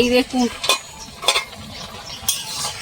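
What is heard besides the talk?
stirring taro leaf (kochu shak) curry in a pot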